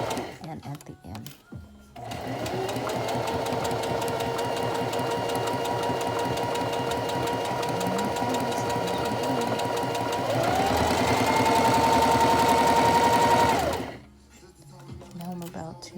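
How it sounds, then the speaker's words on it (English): A sewing machine running steadily in a reverse stitch, its rapid mechanical whir continuous for about twelve seconds, rising slightly in pitch near the end before stopping, with brief talk at the start and finish. "Now I'm about to show you a reverse stitch, 2 stitches back to secure the end."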